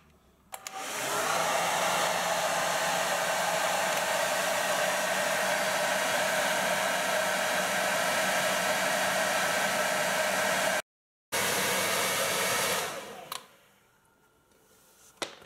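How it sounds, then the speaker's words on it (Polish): A hair dryer with a wet sock pulled over its nozzle runs steadily at a loud, constant whoosh for about ten seconds, cuts out briefly, restarts, then is switched off. "W drugim kroku musimy włączyć suszarkę."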